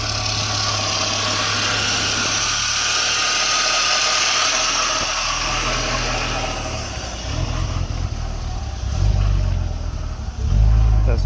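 A BMW E46 car engine runs steadily just after starting, with a rough, droning idle and some exhaust trouble. The engine rumble rises in bursts near the end, up close.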